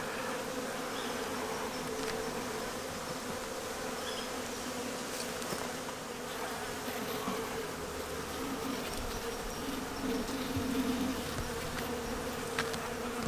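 Honey bees buzzing steadily around an open nucleus hive being inspected outdoors, a soft continuous drone with no talk.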